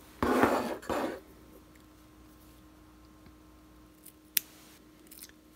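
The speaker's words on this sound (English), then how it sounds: "just go in and get the backing and snip the backing" Scissors snip through the backing of fake fur for craft pom-poms, with two quick close cuts at the start followed by quieter single snips and small clicks later.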